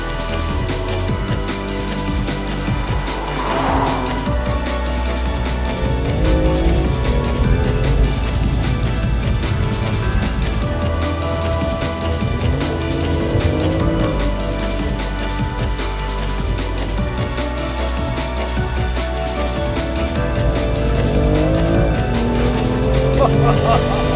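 A BMW M2 Competition drives along, its engine and exhaust droning in a steady, fairly subdued hum that rises and falls slightly, with a person talking over it throughout.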